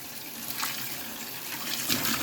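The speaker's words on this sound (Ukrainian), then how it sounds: "Включили воду." Tap water runs steadily in a sink to rinse a vegetable slicer that broke while cutting, giving a continuous, close rushing hiss with a few splashy surges.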